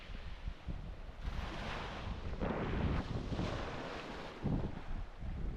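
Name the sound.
wind on a beach in Rhodes, Greece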